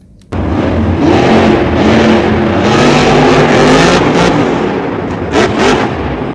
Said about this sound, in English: Wow, monster jump truck.